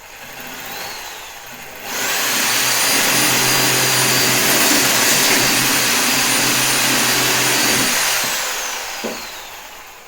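A Hyundai HRS 1050 W reciprocating saw cuts through bone at full speed, a loud, steady mechanical buzzing whine starting abruptly after a quieter lead-in and stopping after about six seconds.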